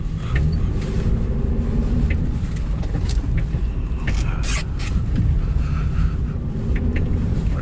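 Jeep Cherokee KJ with a 3.7 engine driving through snow on an unplowed track, a steady loud rumble of engine and tyres with wind buffeting, heard from inside the vehicle.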